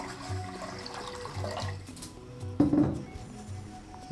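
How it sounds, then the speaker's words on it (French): A little water is poured into a pot for boiling, giving a short splashing gurgle over a low background hum. "Il faut d'abord verser un peu d'eau"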